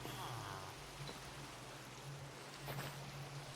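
Steady rain falls in Minecraft, a soft continuous hiss of patter spread evenly throughout with no voices over it.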